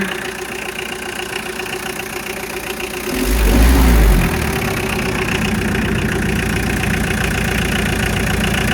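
A Mitsubishi Delica's 4D56 turbo diesel engine idles on a freezing, snowy day after a head stud install, with a steady clattering rumble. One short rev swells louder for about a second, then it settles back to an even idle.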